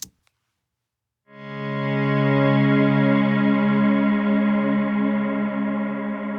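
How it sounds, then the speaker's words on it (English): A synth with a subharmonic layer swells in after a brief silence into a huge sustained root resolve chord, holding rich and steady with a slight wavering shimmer. "So that's our root resolve chord."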